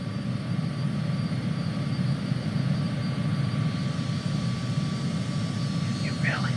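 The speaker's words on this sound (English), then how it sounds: "If you really listen, you can hear both engines." Twin jet engines of a Cessna CJ4 in Microsoft Flight Simulator 2020 produce a steady, continuous low roar and hum throughout, with a faint higher tone above, heard alone at an even level as the simulated aircraft flies.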